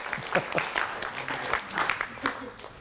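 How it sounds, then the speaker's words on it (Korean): Lecture audience clapping: a moderate, somewhat uneven patter of hands from a seated crowd, fairly soft and brief, with a few louder claps. "박수 한번 해주세요."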